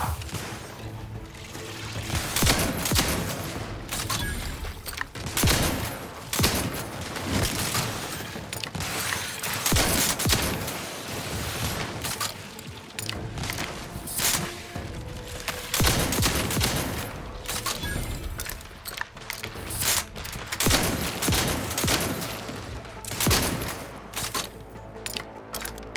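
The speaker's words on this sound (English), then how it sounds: "Bullets too loud? It shouldn't be." Gunfire in the video game The Outer Worlds 2, continuous loud bursts of automatic shots and rapid reports through the whole stretch, dense and close with brief lulls and no clear talk.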